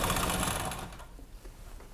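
A sewing machine runs close and loud while stitching the edge of a tote bag, its rapid needle chatter stopping abruptly about halfway through, followed by faint handling noise.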